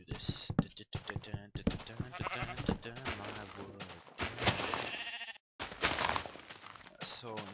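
Sheep bleating in Minecraft, with short bleats scattered through a busy mix of game sounds and someone talking over them.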